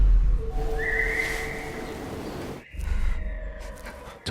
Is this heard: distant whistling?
yes